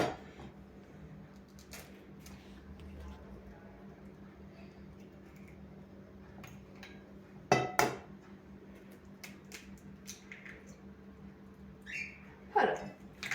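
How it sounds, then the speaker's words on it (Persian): Eggs cracked into a bowl for a cream cake batter: two sharp, close cracks and taps against the bowl, separated by quiet kitchen handling noise. "مرحله اول تخم مرغ رو میشکنیم."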